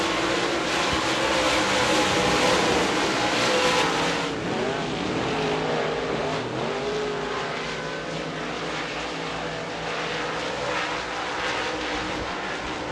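Outlaw modified race cars roaring around the dirt oval at Devils Bowl Speedway, a loud, continuous engine drone that swells as cars pass close, then settles into a steady roar from farther off.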